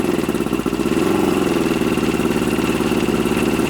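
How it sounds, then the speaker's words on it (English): A Mercury 500 50hp Thunderbolt outboard motor runs steadily at a loud, even idle close by, its rapid low firing pulse holding without change and no talk over it. "that is the motor running, and it will stay running like that for quite a while"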